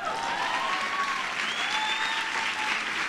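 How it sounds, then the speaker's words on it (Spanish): A theater audience at a comedy stand-up show applauds steadily and loudly, with scattered cheers and whistles above the clapping. "y sí, sí, estoy esperando un aplauso"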